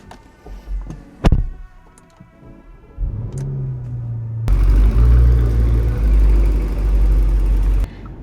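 A 2025 Porsche Cayenne Turbo GT's engine, rev-limited to about 4,000, blips and then holds a loud, rumbling rev for several seconds after a few quieter knocks and clicks, close up and without talk.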